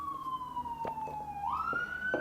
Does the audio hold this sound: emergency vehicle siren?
yes